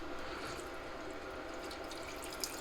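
Water poured steadily from a cup into a Dutch oven holding browned steak over medium-high heat, a continuous close hiss and splash with no talk.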